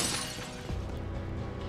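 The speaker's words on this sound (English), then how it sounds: "Smashed the window or some shit!" Window glass smashing in the video game Stranger of Paradise, a bright shattering crash at the start that decays into a tinkling, noisy tail.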